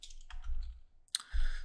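A few computer keyboard key clicks sound close and clear while a file name is typed, with two short bursts separated by a brief pause.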